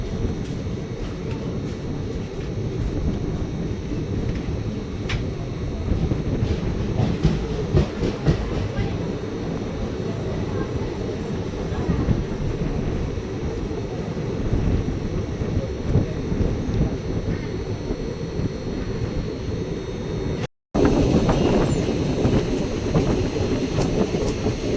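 Simhadri Express, an Indian Railways passenger train, rolls through a curve with a dense, continuous rumble and rattle of carriages, loud and close from on board, with a brief dropout near the end.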